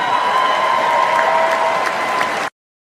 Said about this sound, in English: Just eating up the applause.